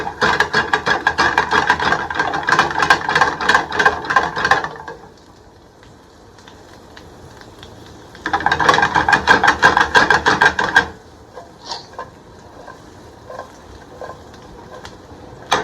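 Asparagus sizzles in a hot pan in two loud bursts of rattling, clattering tossing, separated by quieter stretches of low frying hiss with a few faint knocks.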